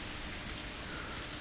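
Steady rain falls in Higurashi When They Cry Hou, a dense, even hiss of raindrops with no breaks, at moderate loudness.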